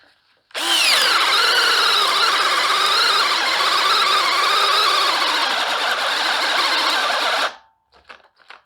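A Kimo cordless hammer drill runs on high while drilling two holes: a loud, close, high-pitched whine starts abruptly and holds steady for about seven seconds with slight pitch wavering, then cuts off, leaving brief faint clicks.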